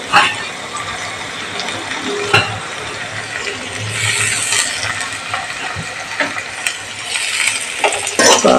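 Green chilies, ginger and garlic frying in a pan for Kerala fish curry, a hissing sizzle broken by sharp spatula scrapes and clinks against the pan, with a voice talking over it.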